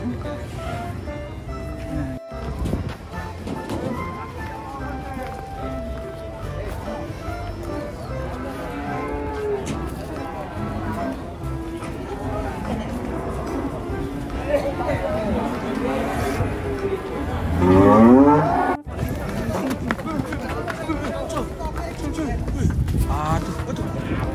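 Cattle unloading from a truck moo repeatedly, loud and close, with hooves clattering on the ramp and people chattering and talking throughout.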